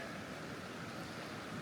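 A creek flows beside a meadow of Easter daisies, a steady, faint, broadband rush of running water with no speech over it.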